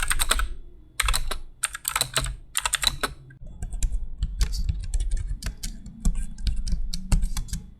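Fingers type on a Tylex X W58 wireless keyboard with ABS plastic keycaps, producing quick bursts of crisp clicking keystrokes and then steadier continuous typing. The sound is close and clear with no voices.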